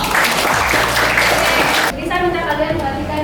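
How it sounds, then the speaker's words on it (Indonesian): Students clap in a school history classroom for about two seconds, a brief burst that stops abruptly and gives way to a teacher talking. "Tepuk tangan dulu dong."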